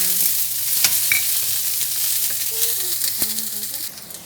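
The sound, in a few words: garlic and onion frying in a pan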